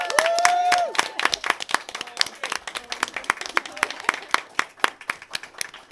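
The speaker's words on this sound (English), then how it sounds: "So can we please have a big round of applause for her?" Audience clapping for a departing sign language interpreter at a live tabletop adventure stream, sharp irregular claps from a small group standing out clearly, with a brief whistle-like tone near the start.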